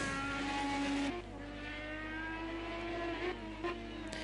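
IndyCar engine in the racing game Project Cars 2 on the Indianapolis GP road course, a sustained whining engine note with shifting pitch, a drop after the first second and brief revs near the end.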